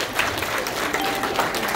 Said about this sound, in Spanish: fuerte aplauso a los papás de los novios en esta noche